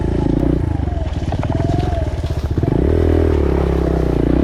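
A Suzuki DR 200 big-bore dirt bike rides in second gear close to the mic, its single-cylinder engine chugging in a rapid pulsing rhythm that climbs in pitch, then settles into a steadier drone.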